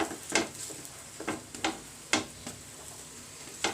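An aloo paratha fries in oil on a griddle, giving a soft, steady sizzle. Sharp periodic ticks and scrapes come from it being pressed and turned. No one talks.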